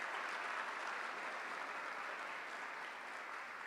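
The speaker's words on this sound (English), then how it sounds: "please join me in a round of applause for our students and sponsors" Audience at a Detroit Economic Club gathering applauding students and sponsors, an even, continuous patter of many hands that sounds fairly distant and subdued, with no voices over it.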